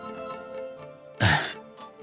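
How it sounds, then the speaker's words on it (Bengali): A single sharp cough or throat-clearing bursts out close and loud after a stretch of quiet room tone, followed by a faint softer echo of breath. "সেই জন্যই অসময়ে কাশি চলে আসে"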